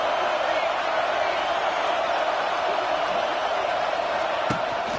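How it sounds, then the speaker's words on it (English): A packed stadium crowd at an American football game roars steadily and loudly throughout, a dense sustained wall of cheering urging on the home defense, with faint commentary beneath. "Listen to this crowd just shaking the girders of this place"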